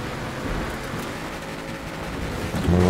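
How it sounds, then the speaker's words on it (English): Thunderstorm in the racing game Forza Horizon 4, steady heavy rain hissing throughout with a deep rumble of close thunder swelling at the end. "That lightning was way too close."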